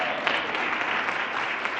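A group of school staff at an inservice day gives a brief, dense round of applause, a steady even patter of many hands throughout.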